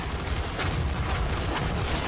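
Rapid gunfire from a weapon in the video game DOOM, a dense continuous volley of sharp blasts with rumbling low-end booms, loud and unbroken with no talking.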